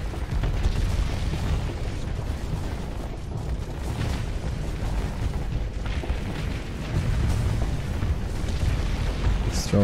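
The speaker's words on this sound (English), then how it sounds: "It's throwing missiles at the wrecks." Missiles striking wrecks in the space game Starsector produce dense, continuous rumbling explosions and booms that layer together for several seconds, with a heavier swell near the end.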